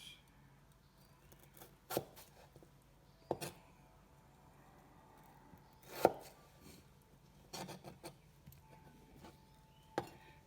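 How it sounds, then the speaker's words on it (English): A knife cuts a vegetable lengthwise into fry-sized strips on a board, producing about six separate sharp chops spaced a second or two apart, quiet between strokes, with no speech. "Now we'll cut these lengthwise"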